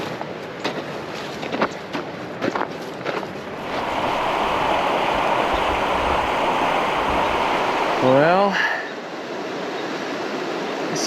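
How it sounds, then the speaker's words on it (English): The Teton River runs at a river crossing in eastern Idaho. At first a few faint knocks and footsteps are heard, then a broad steady rush of flowing water swells in. Someone speaks briefly. "this looks like it might be the first river crossing of the day"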